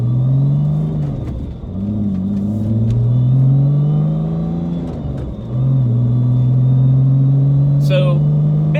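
A 2005 Porsche Boxster with a 4.3-liter R43 engine drives with a steady, low engine drone that swells and eases through a couple of throttle changes, heard from inside the car.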